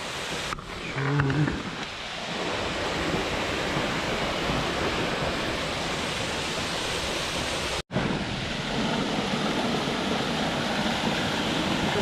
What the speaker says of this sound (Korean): 물소리 아주 좋습니다